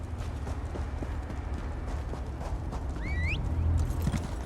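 A horse galloping in the video game Elder Scrolls Online: steady, rhythmic clip-clop hoofbeats under a constant wash of game ambience, growing a little louder toward the end, with a brief rising whistle-like tone partway through.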